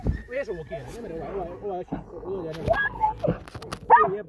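A dog whimpers and yips in high, wavering cries, with short barks breaking in, while a person talks nearby.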